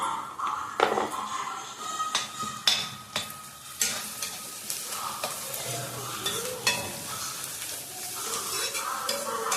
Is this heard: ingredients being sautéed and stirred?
yes